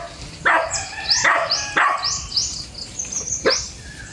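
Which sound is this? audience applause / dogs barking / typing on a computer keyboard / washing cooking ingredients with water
dogs barking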